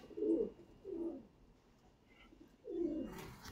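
Pigeons cooing in low, throaty bursts, three separate rolling coos, fairly close and soft, with no talk over them.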